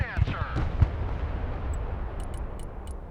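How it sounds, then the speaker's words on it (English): Rocket artillery firing in the Broken Arrow war game: a few sharp booming launches at the start, then a long rumbling roar that slowly fades, with faint distant crackles near the end. "Rocket artillery at your command, sir."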